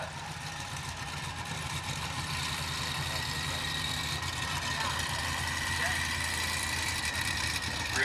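The 111 racing boat Poison Ivy sits idling at a pro race on the water, a steady low engine burble with a constant loud drone and faint chatter around it.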